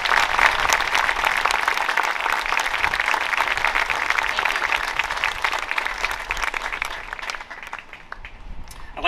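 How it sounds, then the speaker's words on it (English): An audience claps steadily and loudly for a World War II veteran at a memorial dedication ceremony, a dense sustained wash of hands that thins slightly toward the end. "Please give him a round of applause."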